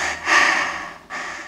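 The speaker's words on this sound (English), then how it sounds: "I found this super weird patch called Deep Breath, which is a sample of somebody like breathing in" A deep inhaled breath sample, the Deep Breath patch on the Arturia CMI V synth plugin, rising into a long airy intake, pausing briefly, then a second breathy swell, close and clear with no talking.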